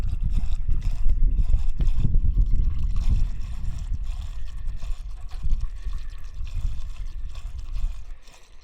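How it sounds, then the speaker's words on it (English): Coolant poured into the engine of a Jeep Cherokee, a steady, close gurgling rush with low splashing that keeps going for several seconds before easing off slightly at the end. "We'll put some coolant back in it"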